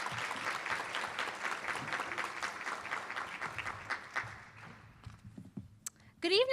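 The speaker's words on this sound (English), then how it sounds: "Let's give her a round of applause as she comes forward on today." An audience at a college honor society induction ceremony claps in a moderate, steady round of applause that thins out and fades after about five seconds, followed by brief sounds near the end.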